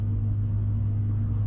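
A 2015 Scion FR-S pulling on the highway, its engine a steady low droning rumble with tire and road noise, no clear rise in pitch across the short stretch.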